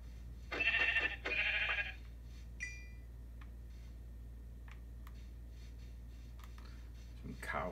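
Two blocky Minecraft sheep bleats sound close together near the start, each about half a second long. After that comes a quiet stretch with faint clicks and ticks from the game.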